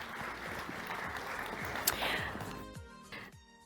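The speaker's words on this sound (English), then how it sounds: "Can we give our finalists a round of applause?" Audience applause for finalists at a sustainability challenge demo day, a moderate spell of clapping that fades out over a few seconds as music rises underneath.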